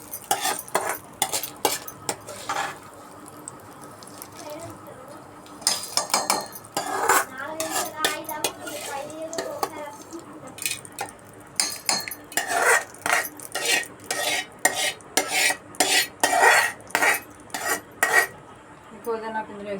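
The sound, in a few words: fried mint ingredients put into mixer jar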